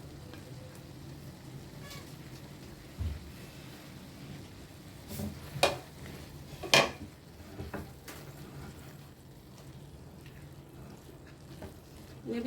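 Fried eggplant pieces being stirred into tomato masala on a tawa for Hyderabadi tawa baingan, giving a steady low sizzle with a few sharp scrapes and clinks of the utensil against the pan.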